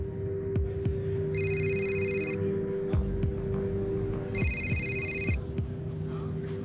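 A phone rings on an outgoing call, two electronic ring bursts a few seconds apart heard through the line, over a steady hum and low background thumps.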